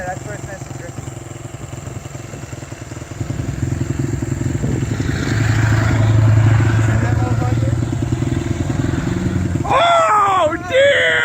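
A Honda XR100 dirt bike rides through snow, its engine droning steadily up close and rising louder partway through, with a brief rev change near the end and voices calling out over it.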